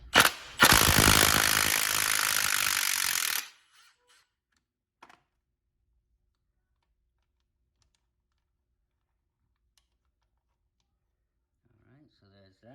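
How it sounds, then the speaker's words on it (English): Rapid ratcheting on the 14mm idler pulley bolt of a J32A3 engine, a fast dense clicking burst lasting a few seconds up close, followed by near silence and a faint voice at the end. "you're gonna have to go ahead and remove this idler pulley, which that one is a 14mm,"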